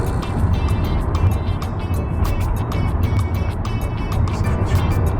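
A 2004 BMW 5 Series E60 530d diesel runs on the road, a steady low rumble of engine and tyre noise with some wind, moderately loud and unbroken.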